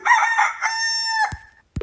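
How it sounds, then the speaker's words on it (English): A rooster crows once from a sound pack, a loud, close, drawn-out cock-a-doodle-doo ending with a couple of short clicks. "Rooster."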